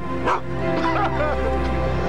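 A dog gives a few yipping, whiny barks close by, mixed with a steady tonal background and some faint voices and laughter.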